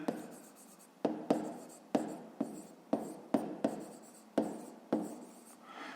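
Numbers written by hand for a fifth-grade maths exercise produce close, scratchy pen strokes in about ten short bursts, each starting with a tap on the paper, with no voices.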